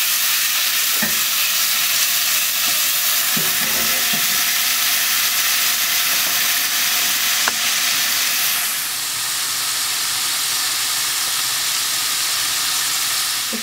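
Tomatoes hit hot oil with garlic in a pan for spaghetti al pomodoro, giving a loud, steady broadband sizzle that holds throughout, with a few clinks of stirring early on and a slight drop in intensity near the end.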